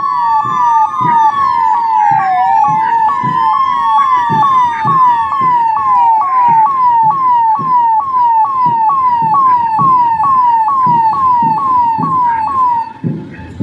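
An ambulance siren wails in a rapid repeating rise-and-fall pattern at a Republic Day parade, loud and close, with traffic rumble underneath and no voices.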